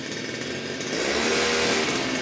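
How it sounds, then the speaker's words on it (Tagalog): A garden power tool with a 42cc Kawasaki engine runs steadily, a buzzing two-stroke drone that swells slightly louder partway through, heard alone without talk. "At napakalakas ng makina niyan. 42cc po ang makina po niyan."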